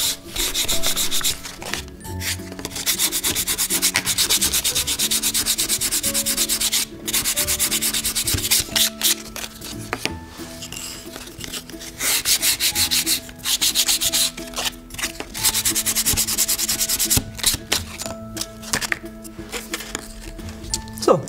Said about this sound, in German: werde ich wieder mit Schleifpapier einfach drüber schleifen